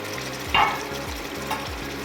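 Gongura mutton curry with tomatoes and spring onions sizzles in a pan, a close, steady frying crackle broken by a few scraping stirs of a spoon.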